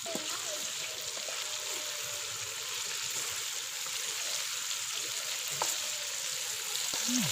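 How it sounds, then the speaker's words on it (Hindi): Tomatoes simmer covered in a pan for chicken charsi karahi, a soft continuous sizzle and bubbling with faint clicks, steady and fairly quiet, with a voice faintly present beneath it. "कवर करके तो 4 से 5 मिनट के लिए टमाटरों को गलने देंगे।"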